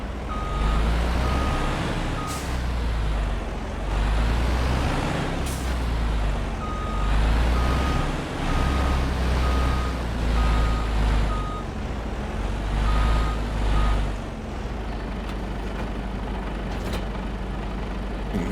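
Mercedes-Benz truck in Farming Simulator 25 reversing, its loud diesel engine droning with a repeating reverse-warning beep in spaced runs and a few sharp air-brake hisses, no talk.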